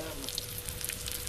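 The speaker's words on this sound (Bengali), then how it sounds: "আর এ পর্যায়ে দিয়ে দিয়েছি 1/2 কাপের মতো কুচানো পেঁয়াজ, সবগুলোকে আমি ভালো করে একটু নেড়ে ছেড়ে ভেজে নেব" Chopped onion and whole spices frying in a pan for chicken biryani, a steady close crackling sizzle with a faint hum beneath and no voices.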